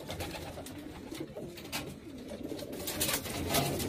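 Pigeons coo in a summer pigeon loft in a rural setting, soft repeated low calls running steadily through the whole stretch against a busy background, with no talk.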